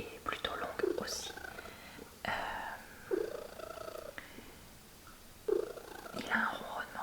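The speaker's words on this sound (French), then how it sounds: "Il a un ronronnement, vous voyez," A neutered domestic cat purring loudly at close range in an animal shelter setting, a steady rumbling with soft breathy gaps, while a person whispers over it.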